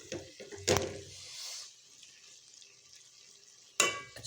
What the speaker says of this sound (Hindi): अब हम इसे 2 मिनट के लिए भूनेंगे